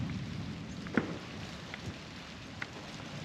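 Steady rain hissing and pattering throughout, with a few sharper drops or crackles; no clear thunder stands out.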